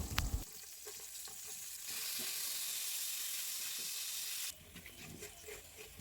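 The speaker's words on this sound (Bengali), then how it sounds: "এবার এখানে কিছু পরিমাণ কাজু বাদাম ও কিশমিশ দিয়ে হালকা ভেজে নিব" Cashews and raisins fry lightly in hot oil, giving a steady close sizzle that swells louder through the middle and eases back toward the end, with a few stirring clinks and no voices.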